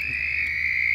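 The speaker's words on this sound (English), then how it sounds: "the largest species of toad in the U.S." The largest toad species in the U.S., giving a continuous steady trill held at one pitch, close and loud, with no voices over it.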